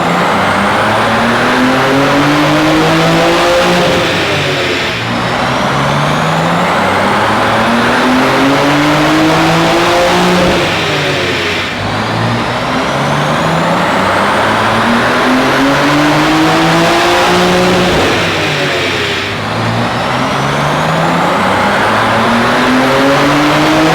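A boosted BMW G80 M3 revs hard on a dyno, engine note climbing through several long pulls with short drops between shifts, loud and continuous.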